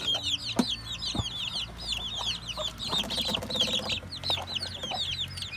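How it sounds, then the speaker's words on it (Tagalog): Rhode Island Red hens cluck continuously with a chorus of high, rapid peeping from newly hatched chicks, close by in a farmyard where goats and turkeys are kept, with scattered knocks in the background. "may mga bagong sisiw, mga Rhode Island Red"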